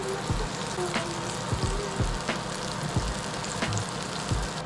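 Crab relleno frying in oil, with a steady close sizzle and crackle throughout and occasional light taps and clicks of a utensil over the frying.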